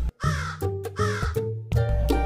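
A cartoon crow caws loudly three times in a row, the harsh calls close and clear with short gaps between them.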